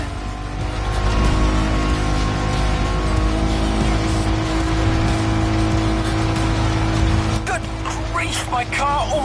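A car in the racing game The Crew driving at full speed, a loud, steady engine roar with tire squeal near the end, while a voice talks over it.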